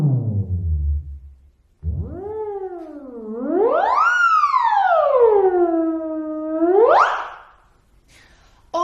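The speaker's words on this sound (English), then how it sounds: "Remember, the theremin is a monophonic instrument" A theremin plays freely drawn graphical notation as a single gliding voice, sweeping up and down in smooth slow arcs, loud and close with no accompaniment, ending on a brief rising swoop.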